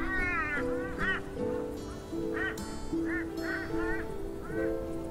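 Ducks quack repeatedly in the game Shardlight, a flurry of nasal honking calls at close range over a steady background hum, with no talk.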